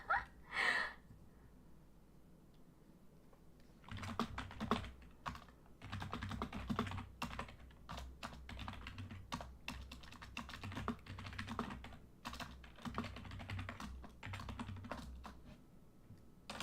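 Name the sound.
typing on a computer keyboard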